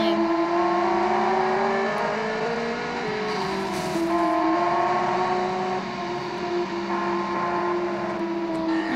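Race car engines drone and whine steadily in a racing video game, with sustained tonal engine notes shifting pitch as the cars accelerate around the raceway, loud and continuous throughout.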